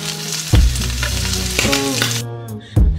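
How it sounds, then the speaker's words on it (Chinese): Shrimp heads sizzle and fry in a pan to render shrimp oil, a loud close crackle broken by a couple of sharp stirring bumps. "虾头先下锅，煸出虾油，"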